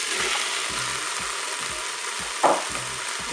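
Tomatoes and courgettes fry in a Cookeo multicooker, a loud steady sizzle close up, with soft rhythmic scrapes of stirring and one brief sharper hiss.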